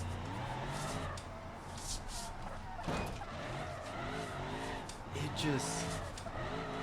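A limo drifts in BeamNG, its tyres squealing in long skids over a running engine while someone talks throughout.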